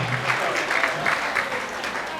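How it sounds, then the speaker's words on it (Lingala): An audience at a festive family celebration claps loudly in honor of a late father, a dense, steady wash of many hands sustained throughout with faint voices mixed beneath. "est-ce qu'on peut applaudir bien fort pour papa?"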